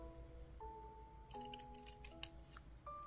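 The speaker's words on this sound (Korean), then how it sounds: "이용지가 붙어있는 마스킹 테이프라서 필요한 만큼 오리고" Scissors snipping masking tape that has backing paper on it, cut to length for diary decorating: several crisp, close snips in quick succession over a faint steady hum.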